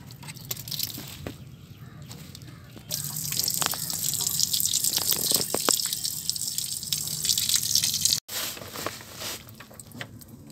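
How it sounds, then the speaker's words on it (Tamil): Water drains from the cooling system of a Mahindra Maximo that has an overheating fault, a steady trickling and splashing that grows louder and fuller partway through, with a brief break near the end. "இந்த வண்டியில் தண்ணி பிடிங்கி விட்டு இப்போ கூலண்ட் ஆயில் சேஞ்ச் பண்ணிடலாம்"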